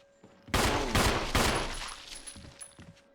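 Three sharp gunshots ring out in Resident Evil (2002), loud and close in quick succession, each followed by a decaying echo and lighter clatter.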